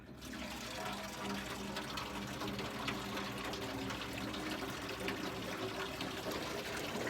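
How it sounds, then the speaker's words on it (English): Water falling continuously in a small patio water feature, a steady splashing and gushing stream heard close and alone, moderately quiet. "the way that the water is going to fall and the sounds that it's going to make"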